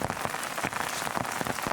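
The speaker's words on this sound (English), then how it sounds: "It's still raining this morning, maybe even more than yesterday." Steady rain falls through a morning in central Tanzania, a dense, continuous patter of drops striking surfaces close by, with no voices.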